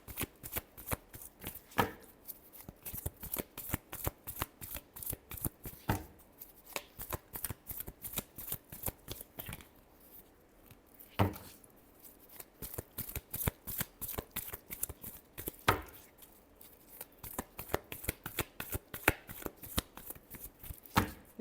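A deck of tarot cards shuffled over and over by hand, a close run of quick papery riffles and flutters in repeated bursts with short pauses between, and no talking.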